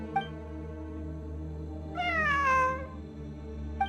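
A single drawn-out cat meow from Genshin Impact, rising then falling over about a second, heard plainly over a low steady game ambience with small chimes at the start and end.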